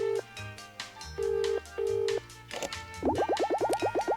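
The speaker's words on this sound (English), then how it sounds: "Wait a sec while I phone my boss." A receptionist in the video game Escape from Ever After places a phone call: repeated electronic ring tones in steady pulses, a few clicks, then a rapid trill of short rising beeps.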